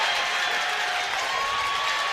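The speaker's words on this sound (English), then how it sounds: "Crowd coming back to life for Westerville North student section." The Westerville North student section cheers at a high school boys basketball game against Delaware Hayes, a broad, steady crowd roar with scattered clapping and a faint voice over it.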